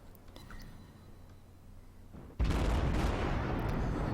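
Cleveland cruiser guns in World of Warships: a quiet stretch of ambient hum, then a sudden loud burst of gunfire that holds as a dense, rumbling barrage to the end.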